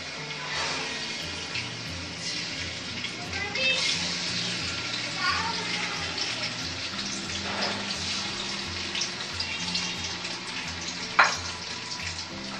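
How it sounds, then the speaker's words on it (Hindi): Half a kilo of chicken fries in oil in a karahi for Shinwari chicken karahi. A loud, steady crackling sizzle runs throughout, with a few faint clinks and a sharp tap near the end, and a voice speaks over it. "अब हम चिकन को इसको फ्राई कर लेंगे इस ऑयल के अंदर"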